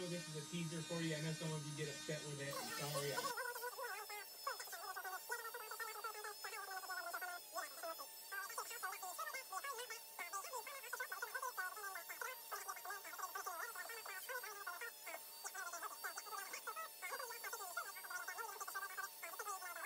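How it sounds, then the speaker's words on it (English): Small Dremel rotary tool polishing the frets of an old Jackson guitar, a steady high whine with fluctuating pitch as it works along the metal, fairly quiet and continuous. "So just using a small Dremel."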